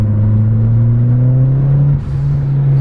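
A Mitsubishi Evo with a GFB Respons blow-off valve pulls in second gear around 3,000 rpm. The engine note hums and climbs steadily, then dips briefly near the end with a short airy burst and settles again.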